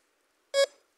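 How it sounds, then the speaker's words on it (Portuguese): A single short electronic beep from a DCH 85 metal detector, a clear tonal bleep lasting about a tenth of a second and fading quickly, close and alone against silence. "Um bip."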